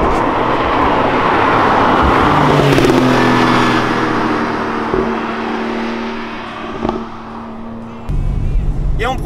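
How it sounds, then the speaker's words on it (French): A Porsche 911 991.2 Targa 4 GTS with a 3-litre twin-turbo flat-six cruises on a country road, its engine droning steadily with rising and falling revs, heard from inside the car alongside road noise and someone speaking. "on profite donc de ce nouveau flat 6 3 litres biturbo"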